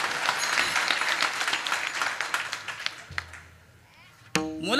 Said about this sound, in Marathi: एकदा त्यांच्याकरता टाळ्या वाजवा बरोबर